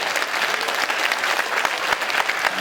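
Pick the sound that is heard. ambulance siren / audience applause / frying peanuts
audience applause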